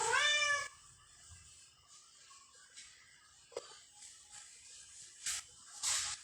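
A house cat meows at the start, a drawn-out tonal call, followed by quieter indoor shuffling and a few soft clicks and bumps.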